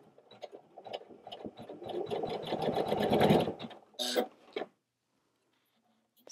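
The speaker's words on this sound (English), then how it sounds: "I'll show you what this tack down stitch looks like." A Janome 500E embroidery machine stitches a tack-down stitch, a rapid mechanical whirring chatter that builds in loudness, ends with a brief whir and clunk, then stops into near silence.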